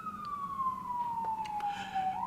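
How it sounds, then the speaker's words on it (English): An emergency vehicle siren wails in downtown Vancouver, a steady, slowly falling tone heard at moderate distance over a low city rumble, with faint scattered clicks and traffic noise around it. "It's not normal if you don't hear a siren in downtown Vancouver, it seems."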